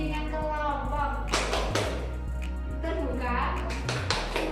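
Vocational high school students in a group guidance class chanting together while clapping, sharp hand claps falling in a rhythmic pattern under loud group voices.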